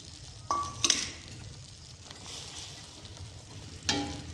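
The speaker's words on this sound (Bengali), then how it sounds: "জলটা ফুটে গেলে আমি ভেজে রাখা পটলগুলো সবগুলো দিয়ে দেবো।" Fried pointed gourd (parwal) tipped into a pan of boiling water makes a sharp hissing sizzle with metallic clinks, then a steady low simmer and a final clatter and hiss. Nobody speaks.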